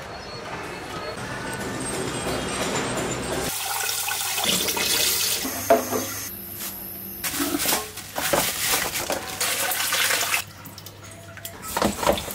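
Katla fish washed with salt under running water, tap water splashing and gushing close by in uneven bursts, with handling noises and a few pauses.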